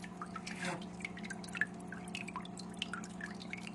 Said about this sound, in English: there is a lot of surface tension breakup, a lot of surface agitation